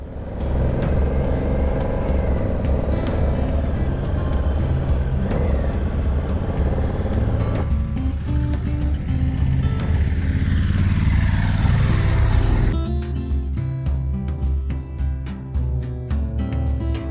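Honda Africa Twin motorcycles riding on twisty roads in Gran Canaria, a loud continuous engine drone with shifting pitch as revs rise and fall, wind rush, and a brief change in tone near the end.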